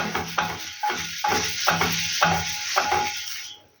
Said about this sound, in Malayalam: വീണ്ടും എണ്ണ നമുക്ക് സ്പ്രെഡ് ചെയ്ത് വെക്കണം.